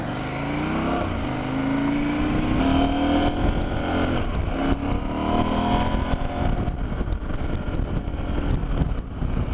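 KTM 790 Adventure motorcycle riding slowly through a tight turning circle on a road: a close, steady engine drone that rises and falls with throttle, with wind rumble throughout.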